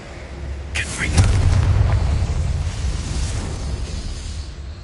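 A Confringo blasting-curse explosion in Hogwarts Legacy bursts sharply, then rolls into a loud, rumbling boom that slowly fades over several seconds.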